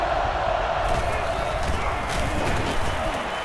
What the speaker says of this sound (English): So this crowd is making their presence felt.